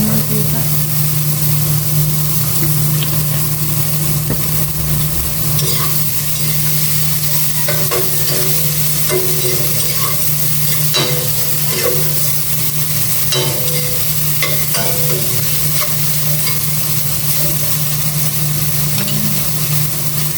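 Garlic and shrimp frying in added cooking oil, a steady close sizzle with scraping stir strokes throughout, over a constant low hum.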